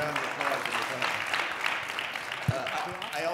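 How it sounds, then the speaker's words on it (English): Audience applause for a panel discussion on the generational gap, a steady wash of clapping that runs the whole time at moderate distance, with some talk mixed in underneath. "Please join me in giving them a round of applause."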